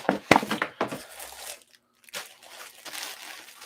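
Plastic bags and a flat rate mailing envelope crinkling and rustling while eBay orders are packed, close and uneven crackles in bursts with a brief quiet gap partway through.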